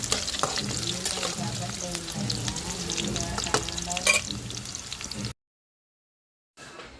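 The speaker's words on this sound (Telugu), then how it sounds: "ఉల్లిపాయ అయితే లైట్గా ఫ్రై అంత వరకు వేయించేసుకున్నాం." Sliced onions fry in a pan, a steady broadband sizzle with scraping stir strokes, cut off abruptly near the end before a faint return.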